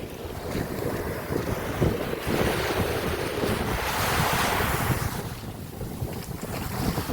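Surf rolls in steadily at Caba Beach, La Union, during a changing tide, a continuous broad wash of breaking waves with strong wind buffeting the microphone throughout.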